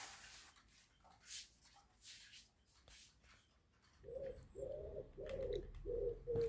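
Pigeons cooing near a morning bird-feeding spot, a run of soft, repeated low coos that come in after a few quiet seconds.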